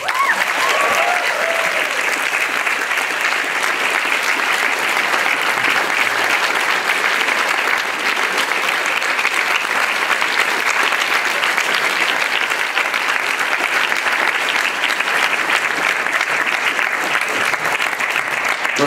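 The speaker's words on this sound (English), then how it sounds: "Get on stage before the applause peters out." Sustained audience applause at a documentary festival in Sheffield after a screening of My Scientology Movie, a dense, even wash of clapping from a large crowd that holds steady without letting up.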